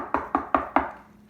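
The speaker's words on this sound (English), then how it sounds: "knocked on the door" Four evenly spaced knocks on a wooden door, close and crisp, each with a short decay, followed by quiet.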